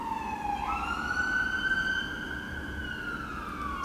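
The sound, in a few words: ambulance siren passing outside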